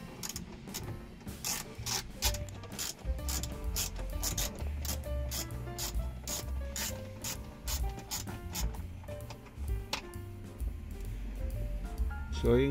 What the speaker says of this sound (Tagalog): tatanggalan natin lahat yung 4 na 7mm bolt